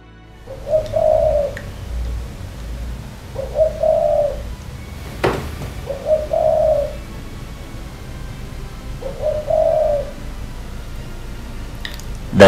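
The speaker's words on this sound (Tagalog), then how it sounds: "kaya si Spotted Dove naman ang nag-iingay-ingay na sa bubong ng bahay" A spotted dove coos on a house roof, four evenly spaced soft phrases every few seconds, clear and moderately close, with a single sharp knock between them and quiet outdoor background.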